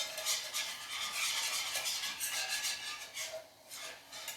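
A whisk beats cheese sauce for cauliflower cheese in a saucepan, making rapid rhythmic scraping strokes that swish steadily close by and ease off briefly near the end.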